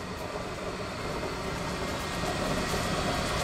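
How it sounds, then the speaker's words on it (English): A Wysong 1452 metal shear idling with its motor and drive running as a quiet, steady mechanical hum and whir at an even level, with no cuts or strikes. "Nice quiet running machine."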